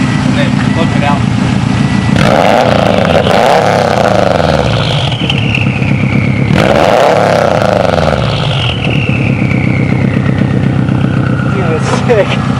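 A turbocharged car engine revs twice, each rev bringing a rising turbo spool whine that sweeps up and fades. Between the revs the engine idles, loud and close.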